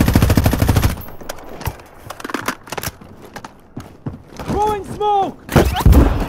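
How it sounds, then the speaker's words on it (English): Gunfire rattles in Warzone, a dense burst of rapid automatic shots at the start followed by scattered single cracks, with urgent speech partly overlapping. "They're shooting at me."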